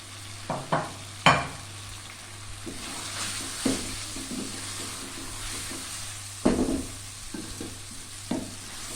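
Okra frying in well-roasted spiced masala for Hyderabadi bhindi gosht, a low steady sizzle punctuated by several sharp spatula scrapes and knocks against the pan, nearby and without talk.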